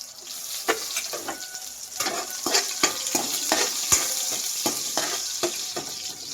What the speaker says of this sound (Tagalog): Kaya mag-golden brown itong bawang, luya at sibuyas.